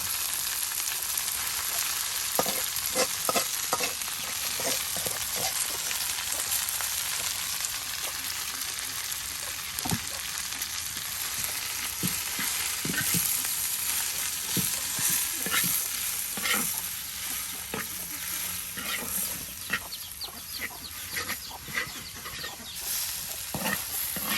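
Home-grown greens cooking in a pan in a rural village kitchen, with a steady close sizzle and repeated scraping stirs, while a chicken clucks faintly in the background.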